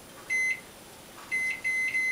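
Short electronic beeps from a kitchen oven timer being set for baking homemade vegan bread: one beep, a pause, then two more in quick succession, clear and close over faint room hiss.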